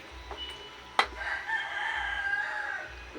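A neighbour's rooster crows nearby in one drawn-out call after a sharp click, with a faint low hum and a few soft sounds underneath, no talk over it.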